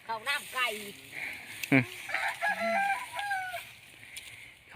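Chickens cluck and a rooster crows at a rural farmyard, several short calls and a crow rising over one another, fairly close, with people talking at times.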